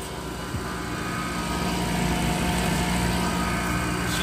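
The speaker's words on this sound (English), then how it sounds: "That compressor's not sounding the best," A failing compressor runs with a rough, continuous mechanical drone and buzzing hum, steady and fairly close, with no talking.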